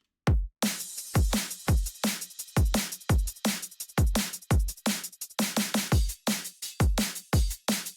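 Isolated drum track from a song, punchy kicks and snappy snares in a driving rock groove with hi-hats ticking along and picking up into faster sixteenth-note figures, loud and close with no other instruments.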